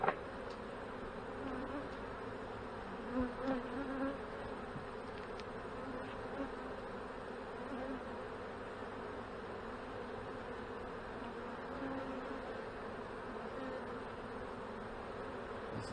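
Honey bees swarm around an opened hive during an inspection, a dense, continuous buzzing drone that holds steady and close throughout.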